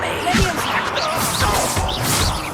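The Bombarda blasting spell in Hogwarts Legacy gives loud, repeated crashing blasts with whooshing swirls and rumbling impacts, dense and close throughout.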